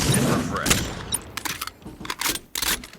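Gunfire in the Carnival Shoot Out shooting video game comes as quick bursts of sharp shots, some rapid and clustered, others spaced apart, with someone talking over the first part.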